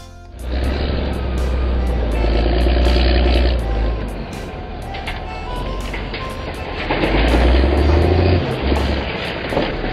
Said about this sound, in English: Wheel loader.